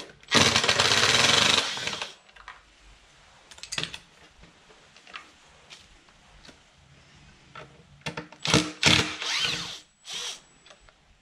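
Power tool loosening T25 fasteners on the heater hoses of a BMW E46 330i: one loud close two-second whir, then quiet clicks and handling noise, then a cluster of short sharp bursts near the end.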